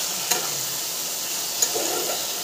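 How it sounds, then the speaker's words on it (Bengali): Spice masala of ground spices, chilli and turmeric frying in oil with potatoes for a rui fish curry, a steady close sizzle with two sharp spoon clinks as it is stirred. "মশলাটা ভাজা ভাজা হয়ে এসছে।"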